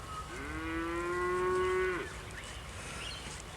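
A single long, loud moo from cattle on an Australian valley grazing land, close and sustained before trailing off into quiet outdoor ambience.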